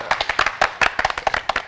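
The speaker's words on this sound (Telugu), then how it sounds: "అరే గట్టే చప్పట్లు కొట్టరా" Quick rhythmic hand clapping in a comedy skit, a short run of sharp, close claps at a steady pace.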